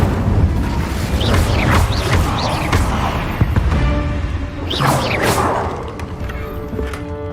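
An Incendio fire spell is cast in the Hogwarts Legacy video game, giving loud whooshing, crackling blasts with booming low rumble, two strong flare-ups separated by a few seconds, followed by fading mechanical noise.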